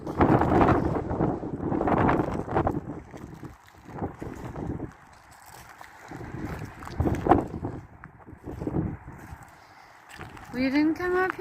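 Strong gusting wind on a rooftop in Detroit roars and buffets the microphone in uneven surges, with people talking through it.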